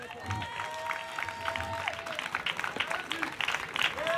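A congregation at a revival crusade applauding and cheering for the Lord, a dense wash of clapping with raised voices, while a preacher speaks over the crowd.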